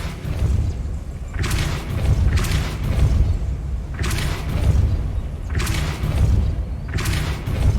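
A Depulso spell in the Hogwarts Legacy video game, heard as four loud repeating blasts roughly every two seconds, each a booming thud with a bright whooshing burst, over a steady low rumble.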